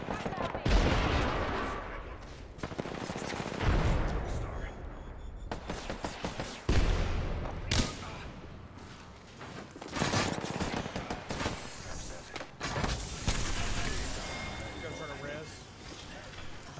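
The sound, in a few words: gunfire in Apex Legends video game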